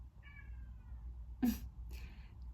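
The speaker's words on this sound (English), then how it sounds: "I'm sorry if you hear my kitty meowing." A cat meows faintly once, then a louder, brief meow follows, with a low steady hum underneath and no talking.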